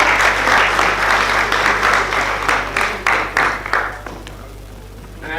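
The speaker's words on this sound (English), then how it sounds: "Can we have a big round of applause for him?" A seminar audience at a high-rise sustainable water management event claps loudly in a dense, steady burst of applause that thins and fades toward the end.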